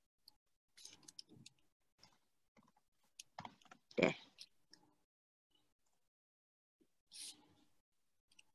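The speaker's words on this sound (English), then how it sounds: "Let me type that into the chat." A password is typed on a keyboard: faint, irregular key clicks come in short bursts with pauses between them, one slightly louder clack midway, in an otherwise quiet room.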